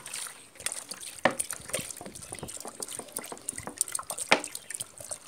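Liquid cow urine pours into a bucket already holding cow dung, in close splashing and dripping bursts that trickle irregularly rather than flowing as one smooth stream.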